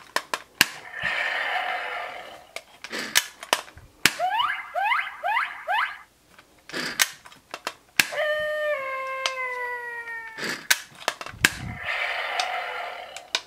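Electronic sound effects from a Power Rangers Super Ninja Steel Lion Fire Morpher toy: a string of trigger and button clicks, a warbling howl-like chirp sequence, then a sustained siren-like synthetic tone, moderately loud and close.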